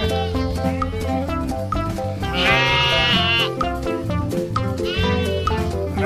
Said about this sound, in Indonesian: Wadidaw, lihat teman, di sini ada kambing.